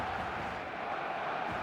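A stadium crowd before kickoff in the football game eFootball gives off a dense, steady roar of cheering and chanting, loud and continuous throughout with no pauses.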